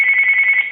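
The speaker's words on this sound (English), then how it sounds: "And then this is the ringer up" Uniden 2060 cordless DECT 6.0 phone ringtone with ringer volume raised, a steady high electronic warble pulsing rapidly, loud and close, alone for under a second.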